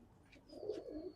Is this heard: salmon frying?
no